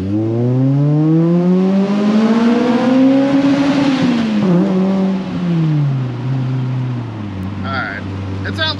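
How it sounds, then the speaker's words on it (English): A 2003 Pontiac Vibe GT exhaust with a Vibrant resonator revs up, rising in pitch as it accelerates, then drops back to a steady low drone; loud and close. "all I can hear really is the exhaust out the back, and it's not bad"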